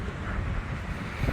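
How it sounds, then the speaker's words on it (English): Steady wind buffets an outdoor microphone, a dense low rumble with gusty swells throughout and no talking. "A little windy."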